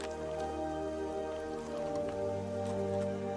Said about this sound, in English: this unexpected rainfall is a rare opportunity to quench their thirst